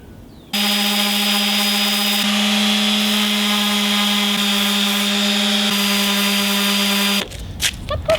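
A power sander droning steadily against an aluminum foil ball, a loud, continuous whine with a strong buzzing hum lasting about seven seconds before cutting off, then a few brief clicks and knocks.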